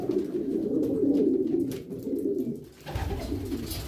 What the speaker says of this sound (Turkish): Erkek böyle peşinden gidiyor, gidiyor, geziyor, ötüyor şekil dişiyi tavlıyor